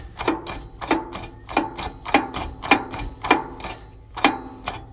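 A wrench ratchets in a steady rhythm of about nine sharp clicks on the seized turbo of a Caterpillar D343 engine, close and metallic with short ringing tails.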